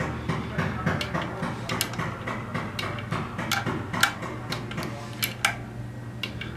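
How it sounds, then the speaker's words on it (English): A large torque wrench ratchets engine bolts down to 16 foot-pounds during oil pump installation, giving a run of sharp, close metallic clicks in irregular bursts over a low mechanical hum. "We get our bigger wrench out. Bring her all the way down to 16."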